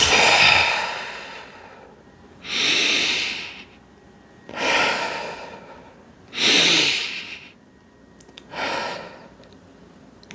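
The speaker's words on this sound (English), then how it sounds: "Just breathe deep with me." Slow, deep breathing during a calming exercise: five long, loud airy breaths close to the microphone, evenly spaced with short pauses between them and no talking.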